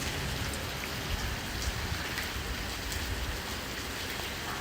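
Rain from a Miami thunderstorm falls steadily on surfaces, a constant patter with scattered drop hits, moderately faint and with no talking.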